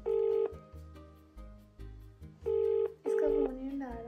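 A phone is dialed for a call: a sequence of bright electronic tones, several short beeps and held tones in uneven rhythm, with a voice speaking briefly near the end.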